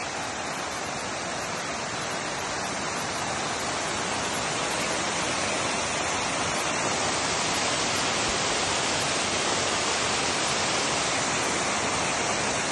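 A salt waterfall pours steadily in a desert mountain setting, a loud, unbroken broadband rush of falling water that stays constant throughout with no pauses.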